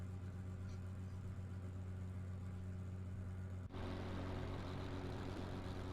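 A car engine in the GT3 racing video game drones at a steady, even pitch throughout, then jumps noticeably louder about two-thirds of the way through after a brief dip.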